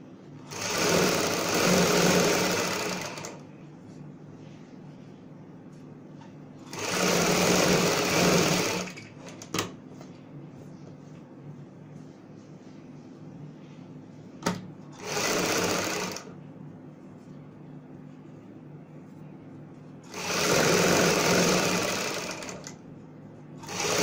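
Sewing machine stitching along buckram on a palazzo pant hem, running in four separate bursts of a few seconds each with quieter handling pauses between, close and loud.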